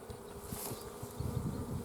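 Honey bees buzz steadily around a low, weakened hive, a dense continuous drone with pulsing low hum close by and no voices.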